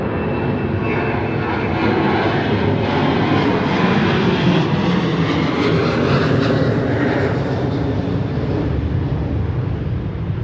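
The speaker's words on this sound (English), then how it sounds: "here comes a plane" An airplane flies overhead near Liberty Station in San Diego, a steady loud roar of jet engine noise that swells and holds for several seconds, with no one talking.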